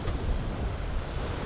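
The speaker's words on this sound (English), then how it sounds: "The wind has picked up to around 16, I think it is, true wind. And the waves have started to build now." Wind and waves at sea aboard a sailing boat off the Oregon coast, a dense, steady roar of gusting wind and rushing water close to the microphone.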